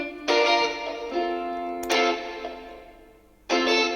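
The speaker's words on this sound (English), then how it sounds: "setting a double-tracked guitar with delays panned like this." Electric guitar chords ring out with a doubled, chorused tone and echoing delay tails, three strums spaced apart that fade between hits.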